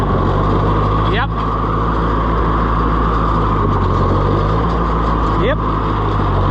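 A Ferguson 30 tractor engine idles steadily with a low, even rumble, close and loud, as voices talk over it.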